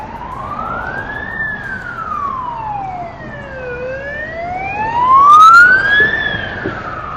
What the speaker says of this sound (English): There's fire trucks in the road.